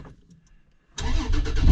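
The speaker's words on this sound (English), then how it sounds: "a reaction to the engine starting sound" An FJ crawler's engine cranks and fires up loudly after a near-silent pause, then settles into a rough, throaty running rumble close by.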